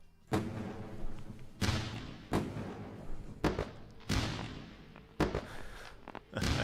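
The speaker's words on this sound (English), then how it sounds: "Celebration time with lovely fireworks." A fireworks sound effect played as a trading-profit celebration, heard as a series of loud booming bursts about one second apart, each decaying with crackle.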